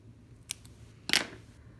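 Scissors snip a Color Street nail polish strip, one small faint click followed by a single sharper cut close by, in a quiet room with no talking.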